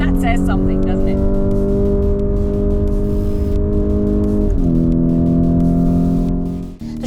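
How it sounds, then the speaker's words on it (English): A 2022 Lamborghini Urus Performante SUV, weighing over two tons, is driven hard on a track. Its engine holds a loud, steady drone with a sharp gear change partway through, and speech is mixed in. "And I'm driving an SUV, and I'm smiling about it."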